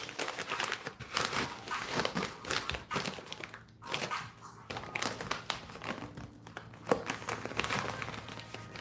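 A stack of prop money being pushed into a paper envelope, continuous close crinkling and rustling with brief pauses.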